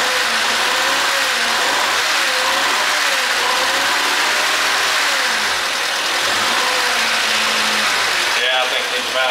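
A rebuilt Honda Civic engine runs steadily in a shop, a loud continuous idle with slight revving swells, while someone talks over it.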